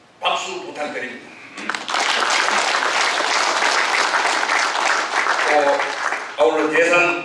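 A ceremony audience bursts into sustained loud applause at a signing event, with brief speech before it and talk resuming near the end.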